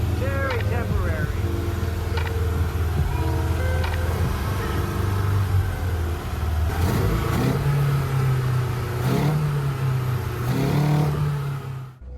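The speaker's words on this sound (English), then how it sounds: "did a test run of the engine. Runs, works." A Toyota AE86 engine being test-run after repairs, idling and revving in several rising and falling bursts, loud and close throughout.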